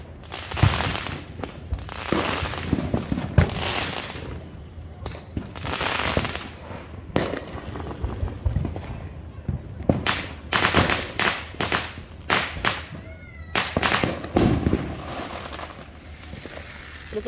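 Fireworks and firecrackers go off on the Fourth of July, a run of sharp bangs and rapid crackling bursts, some near and loud, others farther off, with short gaps between volleys.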